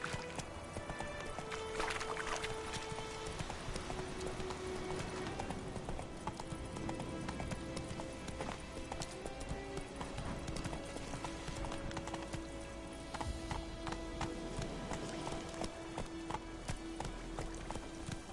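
Roach, the horse in The Witcher 3, gallops with a steady, continuous drum of hoofbeats under game music and ambience, moderately loud throughout.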